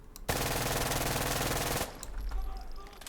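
A Vector submachine gun fitted with an ACOG sight fires one rapid, continuous full-auto burst of about a second and a half in the video game Insurgency Sandstorm. The burst is loud and close, then cuts off into quieter background noise.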